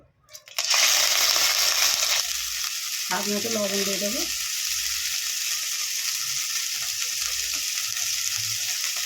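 Chicken frying in mustard oil in a wok, a loud steady sizzle that bursts in and runs throughout, with a brief pause and a short metallic scrape near the middle and a voice speaking briefly.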